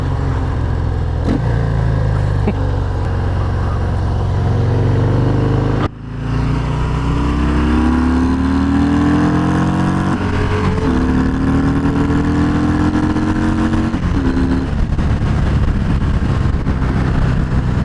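A 2020 Harley-Davidson FXDR 114 motorcycle engine revs hard and climbs in pitch, cuts briefly, then rises again through the gears, with blips on downshifts, loud and close throughout.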